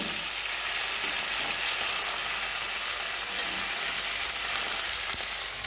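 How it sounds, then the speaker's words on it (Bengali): Tapshe fish frying in hot oil in a wok, a steady dense crackling sizzle that holds at an even, fairly loud level throughout with no voices. "আমি আস্তে আস্তে করে মাছগুলো এক পিঠ এক করে ভালো করে ভাজবো"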